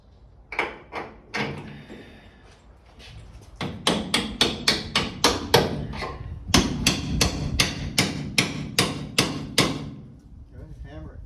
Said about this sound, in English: Hammer it. Hammer it home.